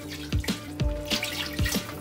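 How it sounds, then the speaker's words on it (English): A cup of water is poured into a pan while making vegan loaded potato soup, giving a few distinct splashing, gurgling bursts in quick succession at close range. "Now I'm going to add in 1 cup of water."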